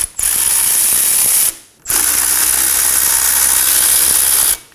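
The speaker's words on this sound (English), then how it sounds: "Using a 17mm socket, we're gonna go ahead and remove both of these bolts" A ratchet with a 17mm socket removing brake caliper bolts on a 2016-2020 Kia Sorento, making two long bursts of rapid, close-up clicking separated by a short pause, with no voices.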